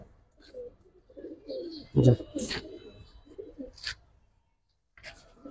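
A large red-khaki pair of old-breed giribaz highflyer pigeons coo in low, soft, repeated phrases at close range, with scattered chirps and faint handling noises between the calls.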